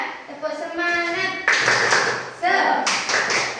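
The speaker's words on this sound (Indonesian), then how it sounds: "tepuk semangat lagi ya, biar semangat ya" A group doing a rhythmic 'tepuk semangat' spirit clap in a classroom: bursts of sharp, patterned hand claps mixed with loud chanting voices, close and lively.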